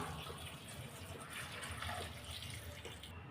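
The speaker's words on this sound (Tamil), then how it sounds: "நாலு கப் தண்ணி சேர்த்துடலாம்" Four cups of water pour into a pot of chopped onion, tomato and turmeric for sambar, a faint, continuous close splashing trickle without talk.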